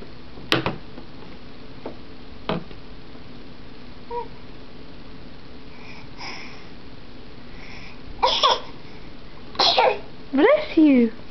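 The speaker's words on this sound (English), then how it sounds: "You love sneezing." A six-month-old baby gives a couple of sharp, brief sneeze-like bursts early on, then after a quiet stretch makes short squeaky vocal sounds close by.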